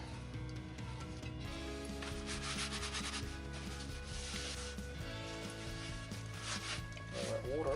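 Steady cloth rubbing and wiping against a hard pot lid, a continuous drying sound with slight shifts in pace, no voices.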